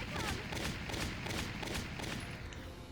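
Rapid gunfire in Valkyria Chronicles, a run of evenly spaced shots cracking out several times a second for the whole stretch at a moderate distance over a steady rumbling background.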